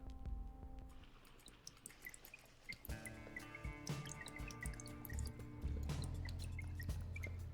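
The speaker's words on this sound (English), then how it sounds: "The, like, water dripping sound effect? Because, yes, that is part of the game's ambient FX." Scattered water drips from The Binding of Isaac's ambient effects, small soft plinks arriving at an irregular pace over steady game music and low tones.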